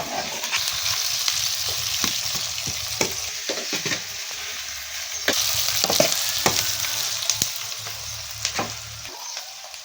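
Onion and green chilli sizzle steadily in hot oil for an amaranth curry, while a spoon scrapes and stirs the pan in frequent sharp strokes over the constant frying hiss.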